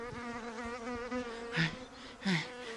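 A bee buzzes in a steady, wavering drone, swelling into two louder, brighter bursts near the end.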